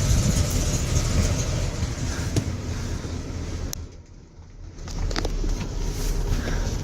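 A 1986 Beaver motorhome's engine idles steadily, a continuous low rumble with broadband noise that dips briefly and then returns at the same level, with no talking.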